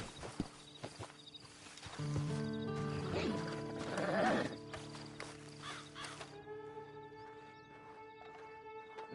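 A horse in the Red Dead Redemption 2 video game neighs loudly in the middle, with scattered hoof clops before and after.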